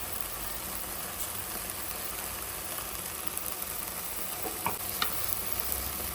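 Coriander powder, chili powder and garam masala sizzle and fry in a pan for palak paneer, a steady, close crackling hiss with occasional faint scrapes of stirring.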